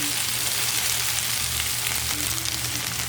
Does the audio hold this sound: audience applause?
no